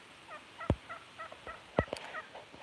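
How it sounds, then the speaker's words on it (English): Farm fowl give short, rapid clucking and gobbling calls in scattered bursts, fairly close, over a quiet outdoor background with a couple of sharp knocks. "hoping the chickens come over and find their own food"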